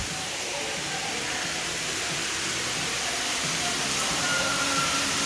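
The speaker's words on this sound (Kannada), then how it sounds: "ನೀರು ಸುರಿತಾ ಇದೆ." Water pouring continuously at an aquarium fountain feature, a loud steady rushing hiss that fills the whole span without pause, close by and even in level.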